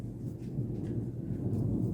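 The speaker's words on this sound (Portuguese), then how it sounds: "Isso é um trovão, viu, gente?" Low rumbling thunder rolls steadily during rain and stays moderately loud throughout the short stretch, with no voices.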